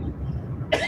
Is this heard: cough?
yes